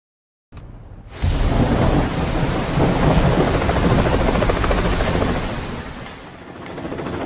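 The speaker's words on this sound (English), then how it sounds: "Hey, the helicopter's ready" A helicopter in a Ninja Gaiden 3 cutscene: after a brief silence, a loud, dense roar of rotors and engine rises and holds steady, then eases slightly toward the end.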